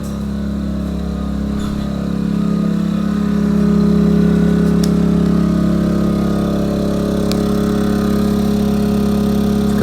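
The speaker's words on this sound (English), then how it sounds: "Show you that the generator is now running pretty high." Honda EF2000is portable inverter generator running at high speed outdoors in below-zero snowy cold, a steady loud engine drone with a firm low hum that holds for the whole stretch, no talk over it.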